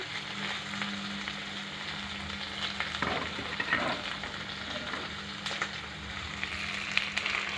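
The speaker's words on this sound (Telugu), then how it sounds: "ఒక 2 స్పూన్ల అల్లం వెల్లుల్లి వీటన్నిటిని పచ్చివాసన పోయే వరకు మగ్గించుకుందామండి." Onion, green chilli and ginger-garlic paste sautéing in a pan, a continuous close sizzle with occasional stirring scrapes, livelier after the first few seconds.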